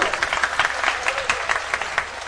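Audience applause at a mushaira poetry gathering in Dhaka, a steady patter of many hands clapping for a couple of seconds, moderately loud and without talk.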